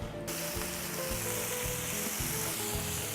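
A pot of food on the stove bubbles and sizzles at a steady simmer, close and continuous, while a faint rhythmic mechanical ticking repeats underneath.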